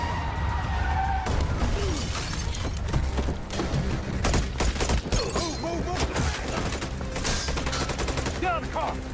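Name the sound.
gunfire in a film shootout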